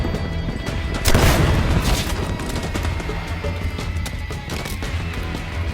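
An RPG rocket explodes in a Call of Duty Black Ops 6 mission set in Iraq, a loud booming blast that rises out of dense, continuous battle noise and rolls on for several seconds.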